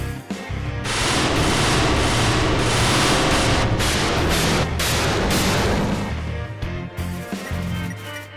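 A rainbow cannon fires in a video game as a dense, loud stream of rapid blasting bursts that holds steady for several seconds, then fades into choppier shots near the end.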